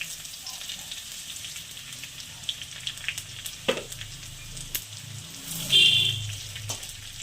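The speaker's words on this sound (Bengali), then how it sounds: "শুকনো লঙ্কা, সর্ষ আর কালো জিরে ফোড়ন দিচ্ছি।" Dried chilli, mustard seeds and black cumin tempering in hot oil, a close, crackling sizzle with scattered small pops and spatters, one louder burst of hissing near the end.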